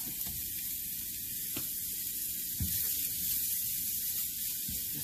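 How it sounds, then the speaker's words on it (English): Green beans seasoned with lemon pepper sizzle and hiss steadily in a pan, a close, even frying sound with a few soft clinks and pops and no talk over it. "Saute it up."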